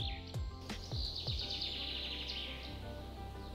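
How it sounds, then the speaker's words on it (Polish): Birds sing in a forest around a camping spot, a fairly faint high whistled phrase over a quiet background with a few soft knocks and rustles. "No i ptaszki."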